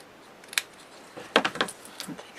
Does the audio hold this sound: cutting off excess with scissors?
yes